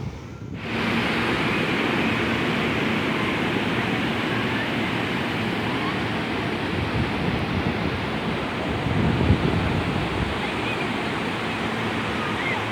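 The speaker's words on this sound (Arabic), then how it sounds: "البحر اليوم شويه هايج هايج البحر هذا النهار" Rough, choppy sea surf breaking on an empty beach, a steady loud broadband wash of waves with heavy wind buffeting the microphone, swelling slightly near the end.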